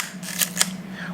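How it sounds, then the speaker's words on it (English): A Yashica Campus rangefinder camera has its film wound and its shutter fired, making two quick, crisp mechanical clicks close by against a steady low hum. "wind and fire the shutter until the number 1 shows up in the film counter"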